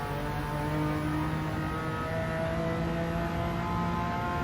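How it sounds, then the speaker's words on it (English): A Porsche's flat boxer engine screams steadily at high revs, bouncing off the limiter along a straight in Gran Turismo 7, a continuous loud harmonic whine without pauses or voices. "that poor boxer engine is bouncing off the limiter as the car screams its way down the straight"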